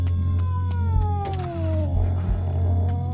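A cat meows in the horror game DreadOut 2, several drawn-out falling cries close and loud over a steady low game hum, with faint clicks in between.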